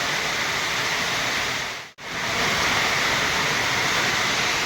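Heavy sudden downpour pouring down outdoors near a goat shelter in the afternoon, a loud continuous roar of rain with one brief dropout midway.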